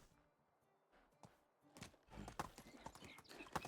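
Donkey hooves clip-clopping in the medieval life-sim game Medieval Dynasty: a few isolated taps at first, then a quicker run of hoof strikes, close and fairly loud.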